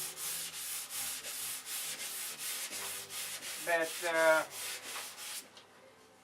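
Steady rhythmic scraping of wood sanding, stroke after stroke at an even pace, near and moderately loud, with a brief squeaky rub partway through before the sound cuts off at the end; no talk over it.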